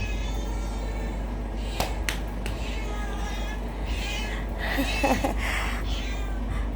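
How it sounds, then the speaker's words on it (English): A cat meows a few times nearby over a steady low background hum, with a couple of sharp clicks earlier on. "And a cat, which we've befriended since we've been here."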